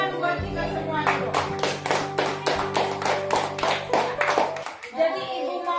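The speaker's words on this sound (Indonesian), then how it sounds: "Tepuk tangan buat kita semua dulu" Schoolchildren in a classroom in a remote part of Kalimantan clap together in a rhythmic, near-unison pattern of about a dozen sharp claps, with a voice at the start and end.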